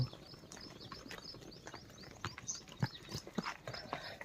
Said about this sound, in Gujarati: કેટલી બધી ગાયો અત્યારમાં સવારમાં નીકળી છે